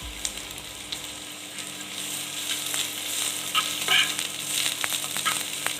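Sliced onion, garlic and julienned ginger frying in a pan, a steady close sizzle that grows a little brighter as it goes on, with a few scraping stirs and no talking.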